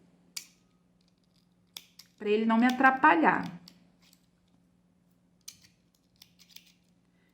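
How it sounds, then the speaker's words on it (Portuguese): Scissors trim crochet yarn on an amigurumi walrus. A few scattered, quiet snips sound close to the microphone, and someone speaks briefly between them. "Ih, essa minha tesoura tá cega."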